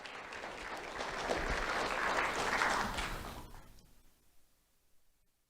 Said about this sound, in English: Let's have a round of applause for Rebecca Altazar Del Cueto.